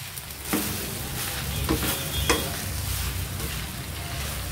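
Rice with chili garlic sauce is stirred in a hot pan, a few distinct spatula scrapes and knocks over a steady soft sizzle, close up and without talk.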